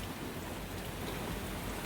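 Heavy rain from a sudden March storm, a steady dense hiss of drops pouring down without a break, fairly close and fairly loud.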